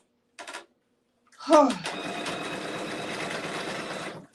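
A sewing machine runs in one steady continuous burst for nearly three seconds, stitching the shoulder seams of a knit-fabric cup dress, preceded by a brief short whir and a pause.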